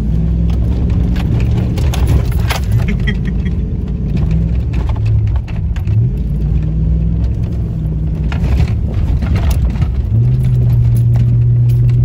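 Four-wheel drive truck straining off-road in Illinois, a low continuous engine rumble with revs that swell and dip, loud and close throughout, no speech.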